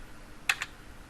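Two quick keystrokes on a computer keyboard, close and crisp, heard against a faint steady room hum with no talking.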